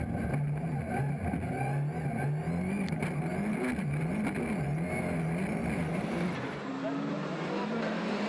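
A Ford rallycross car engine runs oddly during a European Rallycross Championship race in Germany, a revving, wavering drone that rises and falls over several seconds beneath a commentator's voice.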